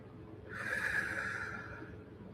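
One slow, soft breath drawn in and let out through the nose during a meditation, heard close and quiet, a smooth airy hiss swelling over about a second and a half before fading.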